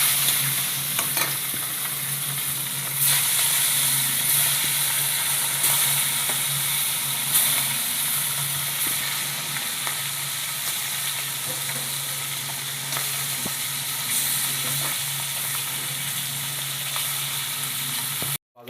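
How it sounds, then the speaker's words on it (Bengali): Whole native koi fish sizzle steadily in hot oil in a pan, a dense, continuous crackling hiss that stays loud and close with occasional sharper pops and no talking. "তেল গরম হয়ে গেছে, মাছগুলো ছেড়ে দেওয়া হচ্ছে।"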